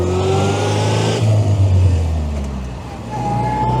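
The small engine of a vintage 1925 Austin Seven revs loudly as the car pulls away in winter, its pitch climbing and dipping in a close, continuous growl.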